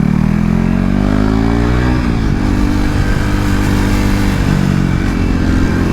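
A KTM RC390 motorcycle at full throttle on a race track, its engine loud and close, revving up through a gear and then holding a steady high drone.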